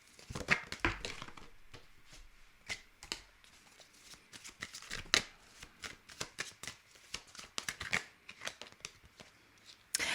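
Tarot cards being shuffled by hand, a run of crisp riffling and slapping bursts close up, steady and uneven in rhythm, with no talking.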